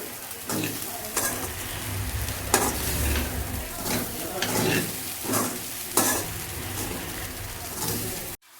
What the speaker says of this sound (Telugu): కొత్తిమీర వేసుకొని మంచిగా కలుపుకోండి